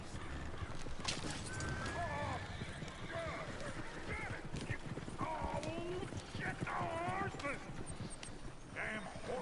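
Horse hooves clip-clopping steadily beneath a horse-drawn coach in the game Red Dead Redemption 2, with neighs and whinnies breaking in while voices talk over the continuous outdoor clatter.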